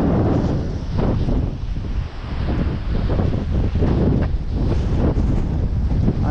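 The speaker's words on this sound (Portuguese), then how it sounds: "Aqui só vento gelado. Só o vento gelado e a canseira mesmo." Cold wind blows hard across a fishing boat at sea off Ponta Arraçã, Porto Belo, buffeting the microphone in a loud, continuous roar with surging gusts and water noise beneath.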